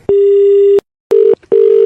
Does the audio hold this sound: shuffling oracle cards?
no